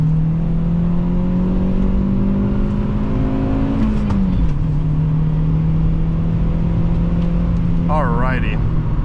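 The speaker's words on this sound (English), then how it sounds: "we are going to do our first 0 to 60 test" A 2006 Toyota Matrix XR accelerates hard from a standstill, its engine note climbing steadily, dropping at a gear change near the midpoint and then rising again, loud and close from inside the cabin, with a brief chirp near the end.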